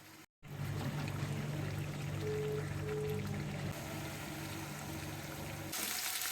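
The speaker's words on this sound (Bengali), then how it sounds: "তারপরে আমি গরম জল দিয়ে দেবো" Hot water pours steadily into a pot of chicken curry as it cooks, a continuous rushing, splashing flow lasting several seconds, close and fairly loud, with a low hum underneath and no talking.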